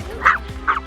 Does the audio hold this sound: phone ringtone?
no